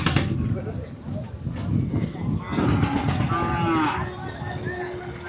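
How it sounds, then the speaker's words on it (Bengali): A cow lows a couple of times, one drawn-out moo clearly heard, amid crowd babble and voices at a busy cattle market where cows and buffalo are being bought and sold. "এই যে গরুটা,"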